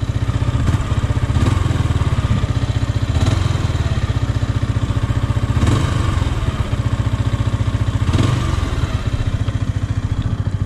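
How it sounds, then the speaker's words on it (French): A 2022 Yamaha YZF R125 motorcycle runs through its stock exhaust, a steady close single-cylinder idle with a fast regular pulse. The engine blips up in revs several times and then settles back each time. "ça fait quand même un bon petit bruit pour un pot d'origine"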